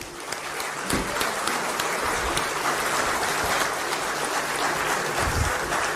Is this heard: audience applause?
yes